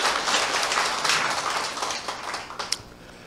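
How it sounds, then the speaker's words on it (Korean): A seminar audience applauds first-time attendees, a burst of dense clapping from a room full of people that thins and fades over about three seconds with one sharp clap near the end. "우리 처음 오신 분들을 위해서 박수 한번 쳐주세요."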